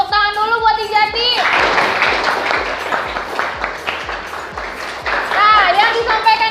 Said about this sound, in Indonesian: Tepuk tangan dulu buat Ijati.